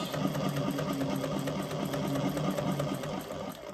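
A sewing machine runs a smaller stitch through fabric while making a bag, giving a close, steady, continuous mechanical whir with a rapid needle rhythm and no pauses or voices.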